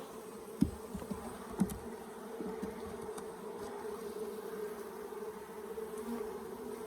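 Honeybees drone steadily around an opened hive during a frame-by-frame inspection, a continuous close buzz with a couple of brief knocks near the start and no talking.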